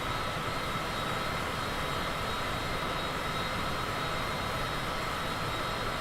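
Cessna aircraft engine climbing in Microsoft Flight Simulator, a steady loud droning hum holding constant throughout with no voices.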